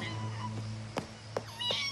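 A cat, called a tomcat, gives a few short faint meows over a steady low hum and background music, heard up close against a quiet room.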